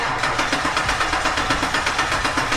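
A diesel engine in a Ford OBS truck idles close by after its first start, with a steady, rhythmic clatter and pulsing knock, loud and even throughout.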